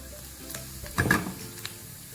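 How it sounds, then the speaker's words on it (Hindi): Cumin seeds crackle and sizzle in hot oil for a kadhi tadka, with a steady fry that swells briefly as they are stirred. No voices are heard. "थोड़ा सा कड़कड़ाएंगे ज़ीरे को।"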